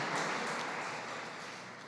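A church congregation at Iglesia El Poblado breaks into a short, dense burst of applause that fills the room and tapers off slightly over two seconds.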